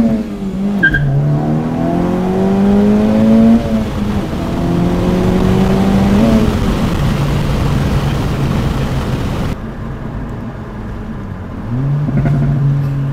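A 2024 Acura Integra Type-S fitted with PRL Motorsports and Two-Step Performance upgrades revs hard and loud, its engine note climbing and dropping through several rev-matched shifts, with a sharp pop near the start and a lower idle-like drone toward the end.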